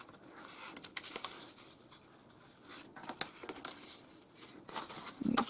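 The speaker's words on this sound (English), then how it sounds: "Fold in those tiny little corners." Paper being folded into a Mother's Day paper basket, with the small corners tucked in: close, soft crinkles, scrapes and creasing rustles come in uneven bursts and grow louder toward the end, with no voices.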